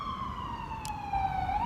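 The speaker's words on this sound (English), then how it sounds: "Sorry about the sirens, there's an ambulance going by." A passing ambulance siren wails in a steady high tone that slowly rises in pitch, heard outdoors at moderate distance over low traffic rumble.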